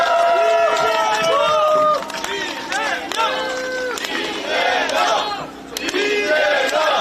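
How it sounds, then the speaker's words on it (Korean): Crowd at an outdoor Korean political rally cheering and shouting for a party leader, loud massed voices with whoops and calls, dense and close throughout, with a speaker talking over them. "여러분 뜨거운 박수로 맞이해 주십시오"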